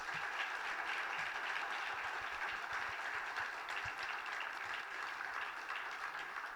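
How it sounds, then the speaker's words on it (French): Audience applause at the close of a televised evening of the Puy-de-Dôme fire and rescue service (SDIS 63) honouring courage and dedication; steady, fairly distant clapping that holds evenly throughout. "je crois qu'on peut applaudir toutes ces personnes"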